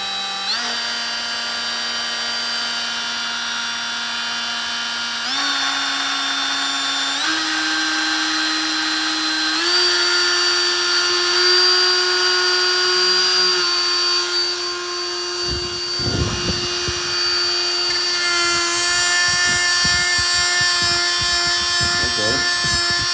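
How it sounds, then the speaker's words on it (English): A Snap-on die grinder whines steadily on its own, its pitch stepping upward several times as speed is switched, then rough grinding contact and a louder, higher whine near the end. "I can switch it from high to low with one hand."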